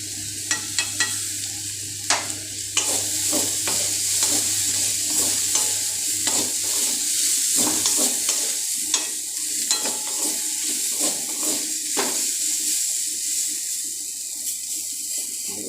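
A poha mix frying in a pan gives off a continuous close sizzle that flares after a splash of water, with turmeric added. Repeated sharp scrapes and clinks of stirring keep up an uneven rhythm throughout, with no voices.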